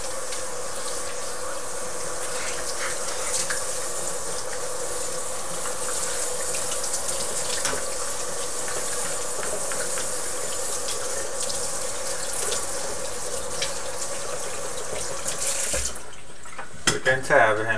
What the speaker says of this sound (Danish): Skylle den grundigt.